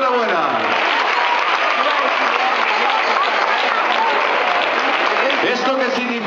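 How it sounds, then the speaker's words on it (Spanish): Loud, dense applause from a crowd honouring award winners at a tapas route event in Berja, sustained steadily for several seconds, with voices mixed in and a cheer near the start. "¡Un fuerte aplauso para ellos!"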